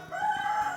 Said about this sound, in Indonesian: itu ada suara ayam